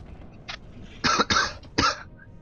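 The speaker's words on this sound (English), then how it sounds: "I hate having this coughing fit." A coughing fit in four bursts, one light cough then three harsh, loud coughs in quick succession, close to the mic against a quiet background.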